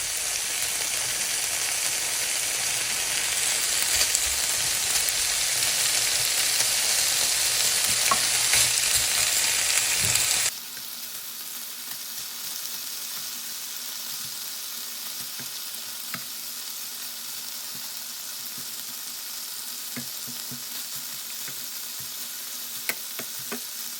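Pork sizzling on an electric home tabletop grill: a dense, continuous, close frying hiss that is loud for about ten seconds, then drops to a softer sizzle with faint pops, and nobody speaks.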